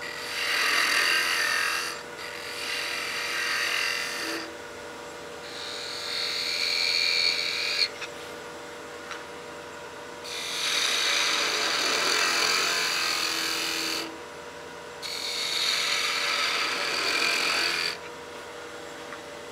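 A spindle gouge cutting a wooden baby rattle on a spinning lathe gives a steady whirring scrape that repeats in bursts of several seconds, with quieter pauses between passes, close and fairly loud.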